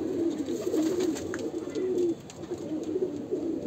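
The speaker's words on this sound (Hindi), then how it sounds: "कबूतर तो इतने भारी भारी है भाई" Heavy breed pigeons coo in a low, steady series of repeated calls, close and continuous across the whole stretch, with no talking.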